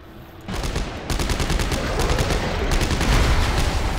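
Gunfire in the Dead Space 3 video game, with faint background sound giving way to a loud, steady run of rapid shots that continues with brief breaks and grows slightly more intense toward the end.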